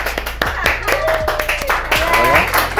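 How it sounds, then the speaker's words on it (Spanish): A crowd claps in a quick, steady burst of applause, fairly close, with a voice speaking over the clapping. "Recibámosla con un fuerte aplauso."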